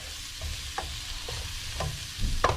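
Steak-style pork bites fry in a pan after a few minutes on each side, crackling in a close sizzle punctuated by several clicks and scrapes of a utensil, with no one speaking.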